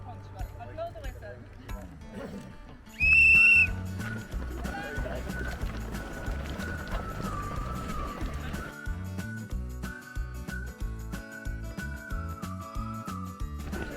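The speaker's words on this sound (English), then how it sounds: "I'll blow the whistle." A sharp, loud whistle blast of about half a second signals the start of Tramore Valley parkrun in County Cork, rising over steady outdoor crowd chatter and movement that continues afterward.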